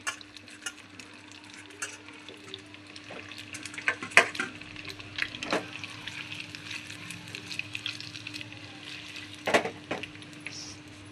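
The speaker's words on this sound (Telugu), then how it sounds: "ఇప్పుడు ఈ పన్నీర్ అంతా అందులో వేసి ఫ్రై చేసుకున్నా." Cubes of homemade paneer fry in oil in a small pan with a steady soft sizzle. Occasional stirring clinks rise above it, and no one speaks.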